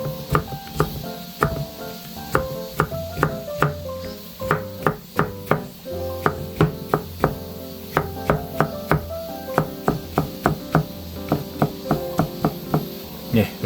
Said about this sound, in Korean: 이런 식으로 해서 호박도 채 썰면 돼요.